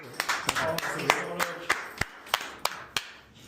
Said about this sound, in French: Bravo, faut s'applaudir.